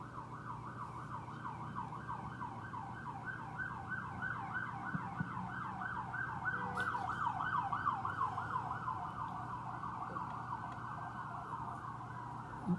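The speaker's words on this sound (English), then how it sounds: "Let me wait for the siren to cross." An emergency vehicle siren wails outside, its rising and falling tone sweeping steadily over a low background hum, growing slightly louder as it passes and lingering for the whole stretch.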